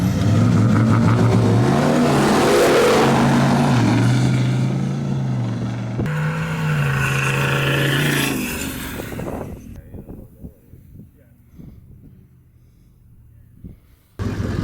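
Drag racing cars, a VDJ against an LS2, roar loudly with engine revs rising and shifting through gears, then fade away to quieter, distant rumbles.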